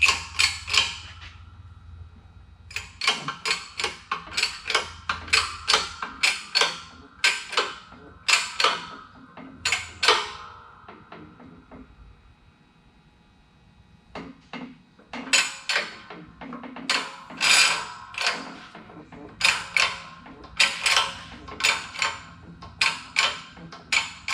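A Camso over-the-tire track being put under tension gives off bursts of sharp mechanical creaks and clicking ticks, clustered in rapid runs with a short lull midway, close and alone without talk.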